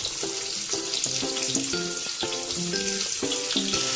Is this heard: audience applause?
no